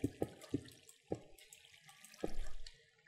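Water pouring from a pump placed in Minecraft, a steady liquid rush with a few sharp clicks and thumps of blocks being set down, strongest toward the end.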